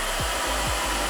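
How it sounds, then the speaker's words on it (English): A hair dryer blows with a loud, continuous whooshing roar close by, its pitch dipping twice in quick pulses as the airflow shifts. "You got the hair dryer."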